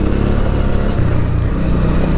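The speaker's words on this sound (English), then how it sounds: "I love this engine, I love the way it delivers the power" A Honda Transalp 650 motorcycle engine runs steadily while being ridden on a track, a loud continuous low drone with shifting harmonic tones, alone with no talking.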